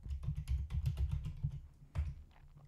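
Quick keystrokes on a computer keyboard type a cd command into a terminal, a close run of soft clicky taps that ends with one firmer press near the end, no speech.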